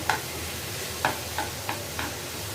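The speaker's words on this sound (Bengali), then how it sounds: "আমি ভালো করে লাড়াচাড়াটা কেন দিচ্ছি বন্ধুরা কারণ এটা তো ভাজি লেগে যেতে পারে" A utensil stirs cabbage fry in a pan, giving five sharp scraping knocks at uneven intervals over a low, steady sizzle, with no voices.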